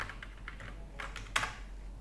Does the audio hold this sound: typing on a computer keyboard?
yes